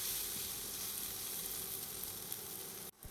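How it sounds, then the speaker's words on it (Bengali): Raw vegetables and a chili with salt fry in a pan for atta noodles. A soft, even sizzling hiss runs steadily, then cuts off abruptly just before the end. "লবণটা দিয়ে ভালো করে মিশিয়ে নিয়ে একটু ভাজা ভাজা হতে দেব।"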